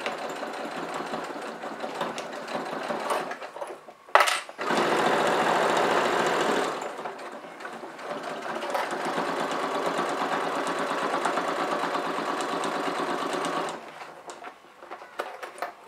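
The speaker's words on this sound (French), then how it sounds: "je vais faire ma couture ici à 1 cm du bord au point droit" A sewing machine running a straight stitch on a zippered bag, a fast steady mechanical whir with a brief pause and restart, loud and close, with no talking.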